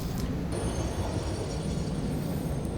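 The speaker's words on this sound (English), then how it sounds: "So let's go and take the train over there" In the video game Satisfactory, a train rolls along at a steady pace, giving a continuous low rumble with a faint high squeal over it.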